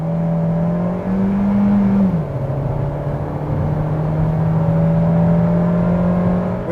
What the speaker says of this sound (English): Let's put the car into sports and drive.